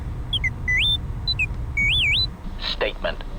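The T3-M4 astromech droid from Knights of the Old Republic 2 chirps out a string of bright electronic beeps and rising, warbling whistles over a low background hum. A short burst of other noise follows near the end.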